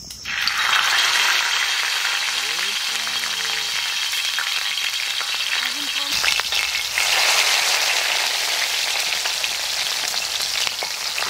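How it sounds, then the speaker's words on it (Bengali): Gourd leaves laid one by one into medium-hot oil for a hilsa fish dish give a loud, steady frying sizzle that fills the whole stretch, with a brief lull and then a fresh surge of crackling partway through. "হালকা মিডিয়াম গরম তেলের উপরে আমরা এখন একটা করে লাউ পাতা সাজায় দেবো।"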